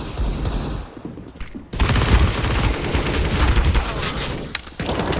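Gunfire in a CS:GO esports match on Vertigo, with dense bursts of rapid automatic shots and sharp cracks, loud and close, pausing briefly before another long sustained volley.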